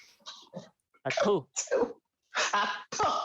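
Several sharp sneezes or throat-clearing bursts come close and loud in quick succession during a tabletop game session, with people speaking between them.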